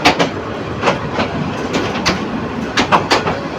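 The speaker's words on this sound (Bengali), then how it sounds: "আমাদের এই লোকাল ট্রেনটা কিন্তু চলে যাচ্ছে" Local passenger train in Bangladesh moving through a station, a steady rumble of rail noise with repeated wheel clacks and bursts, fairly close and continuous, no talking.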